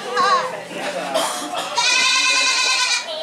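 An Etawa crossbreed goat at a breeding farm bleats loudly and close by, with a short quavering call followed by a longer sustained bleat.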